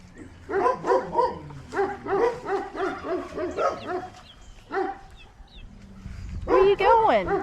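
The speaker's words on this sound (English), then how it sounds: "I don't know what the dogs are barking." Dogs bark repeatedly on a farm, a rapid run of close, loud barks followed by a pause and then a fresh burst, with a voice present among them.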